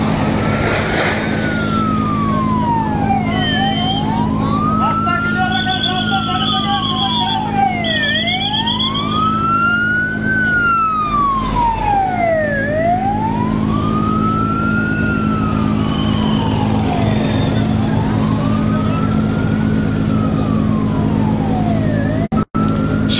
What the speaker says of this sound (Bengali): আরো একটি ইউনিটকে আমরা আসতে দেখেছি ফায়ার সার্ভিসের।